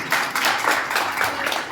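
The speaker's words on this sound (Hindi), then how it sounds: "जोरदार तालियां दी" An audience at a religious discourse in Delhi claps together, a dense, sustained patter of many hands that stays fairly loud across the brief moment.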